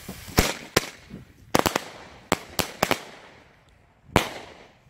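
New Year's Eve firecrackers and small fireworks go off nearby outdoors: a series of sharp, loud bangs comes singly and in quick clusters, each followed by a short fading crackle and echo.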